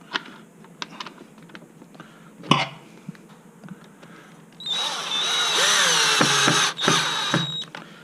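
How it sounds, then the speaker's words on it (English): Scattered clicks and taps, then a power drill on a low torque setting whirs up and runs steadily for a few seconds, close by, driving screws into plastic, with brief pauses as it bites. "Keeping the drill on a lower torque setting, prevent it from stripping the screws"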